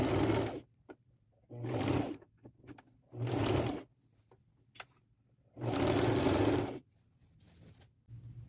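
A sewing machine stitches down the side of a gown being made into a boho duster kimono, running in four separate bursts of steady whirring with quiet pauses between them, close and clear.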